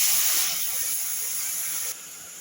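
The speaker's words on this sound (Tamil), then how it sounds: "வெடிக்குது பாருங்கள், தூரம் இருங்க." Mustard seeds and spices splutter and hiss in hot oil during tempering for a South Indian tamarind kuzhambu, a loud close sizzle that drops slightly near the end.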